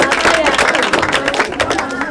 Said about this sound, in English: Clap now. Children, clap.